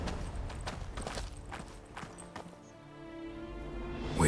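Horse hooves clip-clop in The Witcher 3, a steady run of close, fairly loud hoofbeats over a game soundscape, thinning out and fading toward the end.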